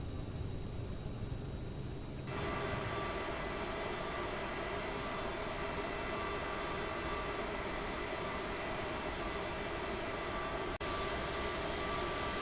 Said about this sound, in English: I'll taxi like this until we get to the terminal